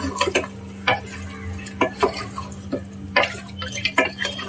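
Mutton pieces with some liver being stirred into masala in a pan, a spoon scraping and clacking against the metal in irregular bursts over a low steady hum.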